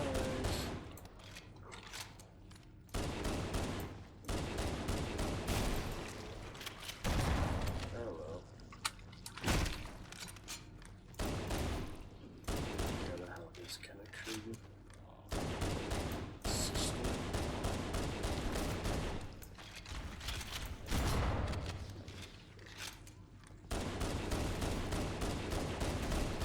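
Bursts of rapid, spraying video game gunfire from an inaccurate, high-capacity weapon, loud and repeated in long runs broken by short pauses, with someone talking between and over the volleys.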